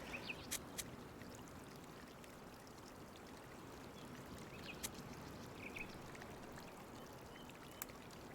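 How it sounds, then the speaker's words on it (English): Steady, quiet running water flows continuously in Chants of Sennaar, a soft rushing stream, with faint bird chirps and small clicks scattered over it. "Is that water?"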